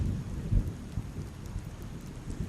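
Rain falls steadily during a thunderstorm in the video game Skyrim Special Edition, with deep rolling thunder rumbling underneath, with no voices.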